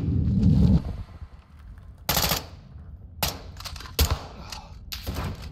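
Gunfire in the video game Call of Duty Modern Warfare II, with a burst of shots followed by several separate sharp cracks and short volleys spaced irregularly, loud and close.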